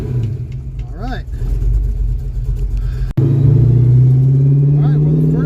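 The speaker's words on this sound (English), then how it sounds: "the first test of the brakes here in the neighborhood went really well" A Ford Mustang drives off after a brake test in a residential neighborhood, its engine rumbling steadily and loud up close, with a brief jolt partway through.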